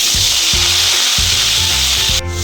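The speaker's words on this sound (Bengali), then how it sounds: "মাছ ভাজার তেলেই আমি এগুলো দিয়ে দিচ্ছি।" A paste of onion, ginger, garlic and tomato sizzles loudly in oil left from frying tengra fish. The steady hiss runs close throughout, broken by rhythmic scraping strokes of stirring. No one speaks.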